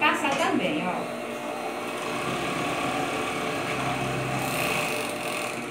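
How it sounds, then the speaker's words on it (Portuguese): Overlock sewing machine stitching fabric for high-waisted panties, a steady mechanical hum under a woman's speech throughout, with a brief sharper rise near the start. "vamos passar aqui no overlock pra poder acertar"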